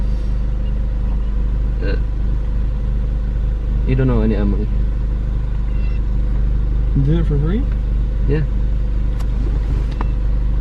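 A car with straight-piped Magna Poe exhaust rumbles in a constant deep, close drone throughout, with people talking casually over it.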